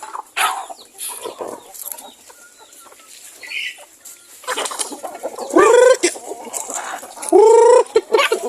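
Chickens and roosters on a farm, with scattered clucking and two loud nearby rooster crows near the end.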